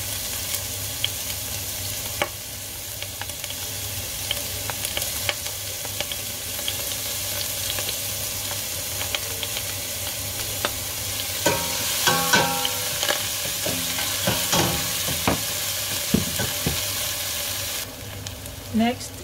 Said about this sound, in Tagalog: So, mainit na si ang oil natin. So, first natin ilalagay is yung onion.